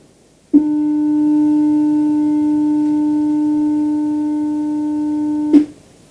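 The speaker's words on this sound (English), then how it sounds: "I'm going to play this 300 hertz pure tone" A 300 hertz pure tone sounds alone for about five seconds, steady and even, starting and stopping abruptly.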